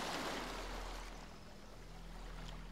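Steady washing rush of water with broadband hiss, like waves surging and receding on a shore, continuous and moderately loud with no voices.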